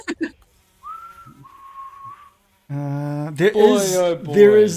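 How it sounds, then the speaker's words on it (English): A person whistles short wavering notes, following a brief sound at the start, then someone talks in a buzzy, sing-song voice during a tabletop role-playing game session. "It's just a whistle. You're just whistling."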